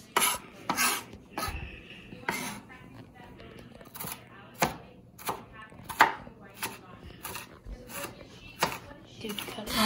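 Knife chopping garlic on a cutting board in a home kitchen, a series of sharp irregular taps spread throughout, close and fairly loud, with voices heard between the strikes.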